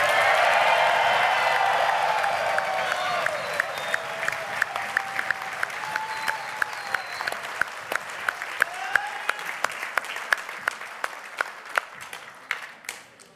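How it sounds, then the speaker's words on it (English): A large crowd at a university graduation ceremony applauds loudly with whoops, the dense clapping thinning into scattered, sharper claps that slowly fade, with a few excited cheers early on. "if you'd like to applaud and whoop again, you're very welcome to"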